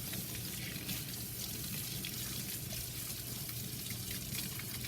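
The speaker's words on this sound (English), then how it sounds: "I'm gonna turn on my water." A water tap runs steadily into a sink in a painting studio during brush rinsing, giving a constant, close hiss of flowing water with no talking.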